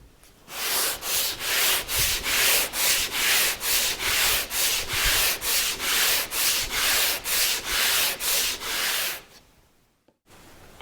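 A clamped spruce guitar top is sanded by hand with sandpaper, about eighteen rhythmic, even rasping strokes back and forth, close and clear, ending in a brief pause.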